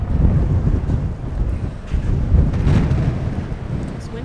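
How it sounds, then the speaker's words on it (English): Strong gusts of wind buffet a microphone outdoors in the Moab desert, producing a loud, low, continuous rumble that swells and dips without pause. "This wind is atrocious."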